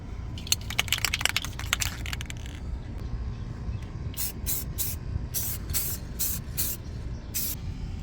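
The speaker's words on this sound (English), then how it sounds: "I'm going to go ahead and spray this black, get all this bare rust painted" Black spray paint sprayed onto the bare, rusty frame of a 2013 Open Range Light 318RLS RV camper, heard as a cluster of quick close hisses followed by several separate longer bursts, with faint workshop background between them.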